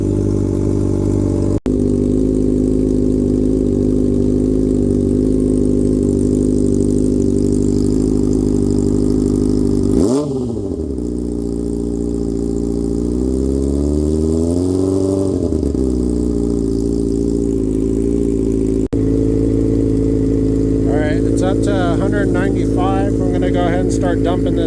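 A Honda CBR600RR motorcycle engine idles roughly with a restricted number four cylinder, a close, steady uneven burble with one sharp dip and recovery midway and a brief blip later.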